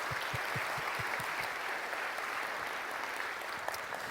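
Steady crowd applause at a prayer meeting, a dense wash of many hands clapping throughout at a fairly even level.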